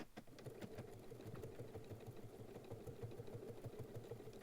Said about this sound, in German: Dann werden die Teile dort aufeinander genäht.